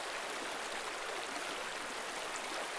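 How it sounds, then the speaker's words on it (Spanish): A river runs through a tropical forest in Costa Rica, its water a steady, dense rushing hiss with no breaks, fairly close and even in level throughout, with no voices. "el sonido de un río en el bosque tropical de Costa Rica"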